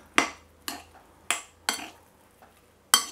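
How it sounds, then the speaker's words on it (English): A utensil clinks sharply against a bowl while stirring pork ribs with sesame oil, light soy sauce and sugar: five bright, close knocks in a loose rhythm with faint scrapes between them. "Give it a good stir."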